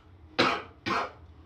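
Two loud, forceful coughs voiced by a man imitating an aggressive cough, close up and alone, separated by a short pause.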